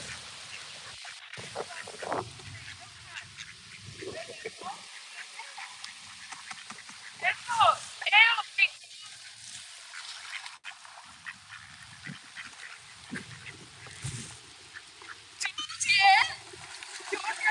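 Ducks quack intermittently at close range in bursts, with splashing water and people talking throughout.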